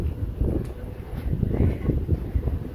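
Breezy wind at Virginia Beach around Thanksgiving buffets the microphone in uneven gusts, a low rumbling, fluttering roar that stays fairly loud and close throughout.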